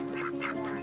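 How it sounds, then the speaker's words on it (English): A duck quacking three times in quick succession, steady and fairly loud, against a sustained musical backing in a farm-animal children's song. "he led the others with a quack, quack, quack"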